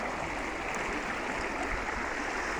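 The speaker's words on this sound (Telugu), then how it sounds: "ఈ రోడ్ నంబర్ 6లో వాటర్ ఎంత ఉధృతంగా ప్రవహిస్తుందో ఒక్కసారి మీరు ఈ వీడియో చూస్తే మీకు అర్థమవుతుంది" Floodwater rushing strongly along Road No. 6 in a residential colony, a loud, steady broadband roar of flowing water, close and continuous throughout with no speech.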